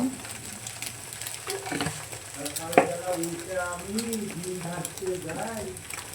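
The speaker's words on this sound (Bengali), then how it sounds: "মেয়েকে একটা ডিম ভাজা দেবো রুটির সঙ্গে একটা ডিম ভাজে নেব" An egg frying in a pan sizzles steadily at close range, with voices talking over it throughout.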